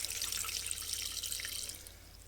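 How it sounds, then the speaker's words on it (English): Water poured from a kettle into a Thermomix bowl holding herbs while making focaccia dough, a steady bright splashing pour that fades slightly near the end. "I'm just grabbing some water in the kettle."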